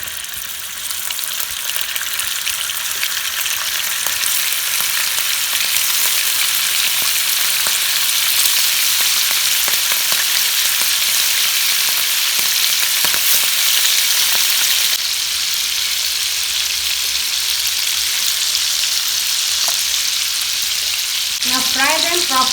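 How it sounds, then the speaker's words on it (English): Prawns fry in oil in a kadai with a loud, dense, steady sizzle that holds for the whole stretch. The frying sounds close, with a brief high squeaky flutter near the end and no voices. "I've taken a kadai and I'm going to use oil and fry the prawns nicely."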